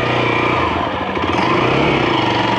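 A Hero XPulse 200 motorcycle engine drones steadily and loudly at close range as the bike climbs onto a raised gutter cover, with no talking.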